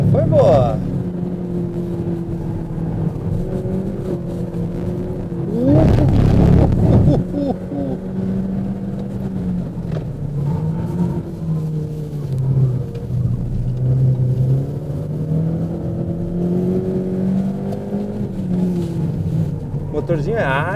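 A Volkswagen Gol's small engine drones steadily while driving, with a rising rev surge partway through, under near continuous talk inside the car.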